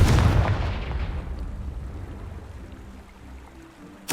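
A Confringo blasting spell from Hogwarts Legacy detonates with a loud booming burst up front, its rumble slowly fading over a few seconds before a sharp new impact cuts in at the very end.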